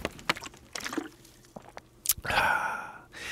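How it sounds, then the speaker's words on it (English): Water gulped from a bottle right up against the microphone: scattered wet squishes and small clicks, then a louder swallow and breathy exhale near the end, intimate and close. "when you get a drink of water, I'll get right up on my microphone so you can hear this"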